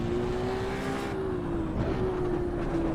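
A Ferrari's engine roars in the racing game AC EVO, a sustained droning tone that dips and climbs slightly in pitch as the car holds speed, loud and close, with no voices.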